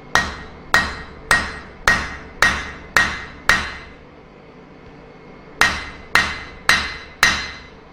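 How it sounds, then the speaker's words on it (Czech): A blacksmith's hammer strikes hot steel on an anvil while forging a leaf and shoulder, seven sharp ringing blows in steady rhythm, a pause, then four more, each with a bright metallic decay. "budeme kovat kolmo z vrchu dolů s mírně naklopeným"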